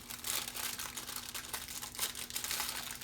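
A plastic-wrapped sleeve of graham crackers is crinkled and handled for a s'mores bar crust, giving steady close rustling and crackling with small louder crunches throughout.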